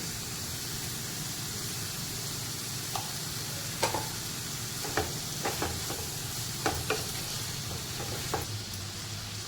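Onion frying with salt over a low flame gives a steady, even sizzle throughout, with a few faint clicks and taps of a spoon against the pan.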